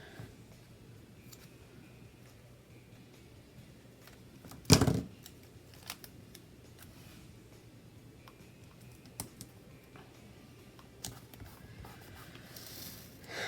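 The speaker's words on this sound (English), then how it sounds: "And again, I'm going to cut it. I love these little tiny scissors." Small, tiny scissors cut washi tape in a few quiet snips, with one sharper, louder cut midway amid faint tapping and handling clicks.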